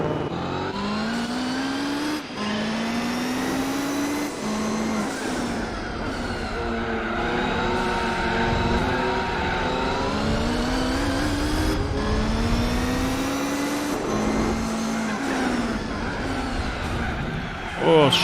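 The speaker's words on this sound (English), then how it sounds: "we got the Ford GT40 race car" A Ford GT40 race car in Gran Turismo 4 roars steadily through repeated gear changes, its engine note climbing and dropping in long revving sweeps, loud and up close for the whole stretch with a voice occasionally talking over it.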